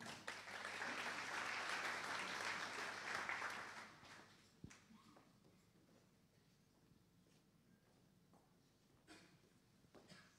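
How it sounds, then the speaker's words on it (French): Applause from a conference audience at a 2019 Synology event rises loudly at first, then fades after a few seconds into a quiet room with only scattered small taps. "Un grand applaudissement, s'il vous plaît."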